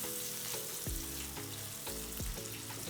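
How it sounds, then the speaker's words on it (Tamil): Tomato, onion and garlic fry steadily in a pan for an egg curry, a continuous close sizzle with soft periodic stirring scrapes roughly every half second. "ஓரளவுக்கு தக்காளி வெங்காயம் பூண்டு எல்லாம் சேர்ந்து வெந்துருச்சு."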